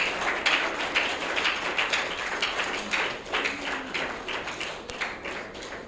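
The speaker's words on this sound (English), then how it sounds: "Please, another round of applause." Audience applause at a public talk, quite faint and somewhat distant, with uneven clapping that rises and falls over about six seconds.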